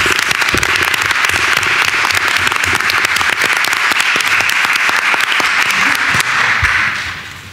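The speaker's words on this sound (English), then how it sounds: "give another round of applause to our custodians" A school board meeting audience gives a round of applause for district custodians, with dense, sustained clapping at a steady loud level that fades out near the end.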